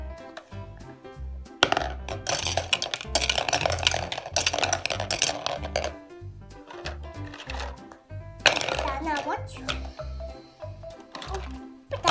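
A child plays at pretend cooking with toy pots and utensils, producing a busy stream of close clattering, clinking and scraping knocks with music playing underneath.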